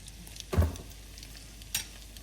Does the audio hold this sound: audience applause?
no